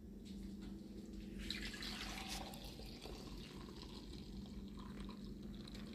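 Water is poured out of a container in a kitchen while making buñuelos, a faint splashing pour that rises then trails off, with a low background hum and no talk.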